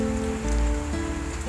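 Steady rain patters on a surface in a soft, continuous hiss with a low rumbling undertone, moderately quiet and unbroken throughout.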